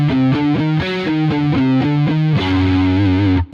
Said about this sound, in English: I'm playing really cool lick, and you can clearly hear that I'm accenting this note really hard